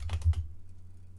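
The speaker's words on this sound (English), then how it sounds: "So we'll go ahead and type in our password." A password typed on a computer keyboard while setting up a PS4 jailbreak, heard as a quick burst of several close key clicks over a low hum, then trailing off into quiet.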